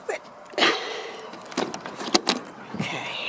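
A chicken coop door is worked open with a few sharp clunks, rattles and latch knocks in quick succession, close to the microphone, with brief faint noises between the bangs.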